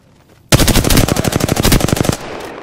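Automatic weapon fire in the shooter game Apex Legends, a loud close burst of rapid evenly spaced shots lasting about a second and a half, starting sharply and cutting off.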